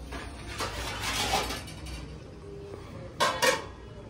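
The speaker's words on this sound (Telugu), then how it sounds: "ఒకసారి కలిపిన తర్వాత దీన్ని అయితే మనం మూత పెట్టుకుందామండి." A metal lid is set onto a cooking pot of mutton gravy curry, two brief clanking contacts about two seconds apart over quiet kitchen background.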